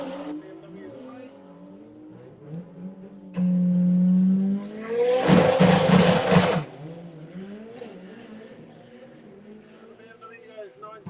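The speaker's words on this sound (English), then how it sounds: "Who's going to take it then? M3 competition or Mark Escort? Mark 1 Escort. Here we go. Race to race. BMW away." A BMW M3 Competition and a Mark 1 Escort drag racing in a video game, engines revving and roaring hard in the middle with a rising whine, while someone talks throughout.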